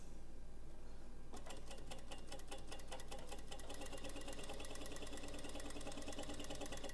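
A sewing machine fitted with a T3 pressure foot runs a steady stitching seam, close and loud, a rapid even clatter starting after about a second of low hum and continuing without talk.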